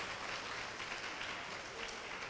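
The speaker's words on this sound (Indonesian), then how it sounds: "Kita beri tepuk tangan untuk kita semua di sini." An audience at a Gen Z youth talk event on money politics claps steadily in a broad, even wash of applause that holds for about two seconds at moderate distance, with no voices over it.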